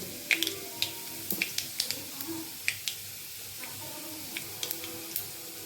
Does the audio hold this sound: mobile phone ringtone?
no